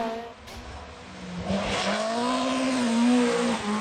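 A rally car engine screams at speed, its pitch climbing and wavering through hard acceleration, loud and close with no talking.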